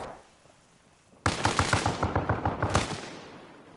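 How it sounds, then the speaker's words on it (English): Gunfire in the Arma Reforger video game during a competitive scrim: silence, then a sudden, loud run of rapid automatic shots with an even rhythm lasting about two and a half seconds, alone with no talk. "Flash trying to put some bullets through the wall."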